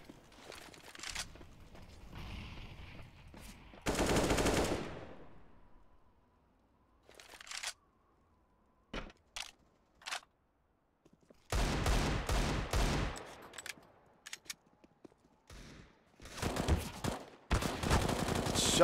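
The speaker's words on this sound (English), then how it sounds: "Shots ring through." Gunfire in Counter-Strike on the Nuke map during a competitive match, with bursts of rapid shots and single cracks separated by short quiet gaps across the clip.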